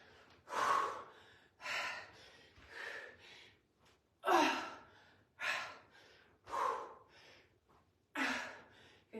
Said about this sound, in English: You guys can hear my breathing.